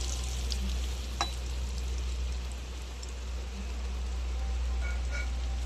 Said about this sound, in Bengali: দেখুন বন্ধুরা, বেগুন ভাজা হচ্ছে।